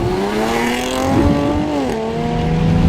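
Supercharged Jaguar F-Type engine under way, a loud, close, sustained drone whose pitch climbs smoothly, dips briefly as if through a gear change, then pulls on steadily.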